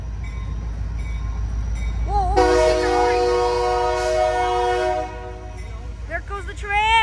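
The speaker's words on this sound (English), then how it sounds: "There goes the train." A Union Pacific freight train passes a road crossing near Vernon, California, its loud air horn blaring in a long sustained blast over a constant low rumble of rolling cars, with a brief earlier horn note and a voice talking near the end.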